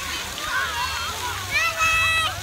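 Water splashes and sloshes at a water park in the sun, a steady spray with brief bursts, as children's voices and an adult's talk mix in nearby.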